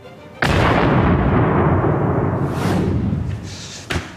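A small test charge powered by the energy of a mini cereal pack detonates on a metal plate, a sudden loud, deep boom that rolls and rumbles for a few seconds before a smaller crack near the end.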